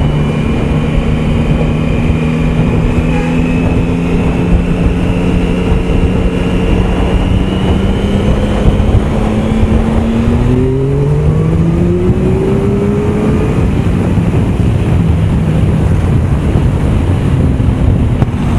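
Riding a Triumph Tiger Sport 1050 triple motorcycle, a loud continuous roar of wind buffeting the microphone over the engine's droning hum, whose pitch rises and falls with shifts, no talk.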